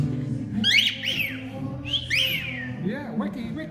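A pet bird whistling close by: several bright, rising and falling whistled phrases in short bursts, with faint chatter and soft squawks between them.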